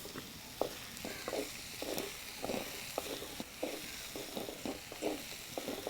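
Curry leaves dropped into hot oil for a Kerala tomato thoran, giving a steady sizzle and frying hiss with a regular pattern of stirring scrapes, moderately quiet and close, with no talking.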